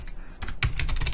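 Rapid keystrokes on a computer keyboard while entering a terminal command for setting up Ubuntu web development, with close, steady clicks that grow denser and louder after a brief pause.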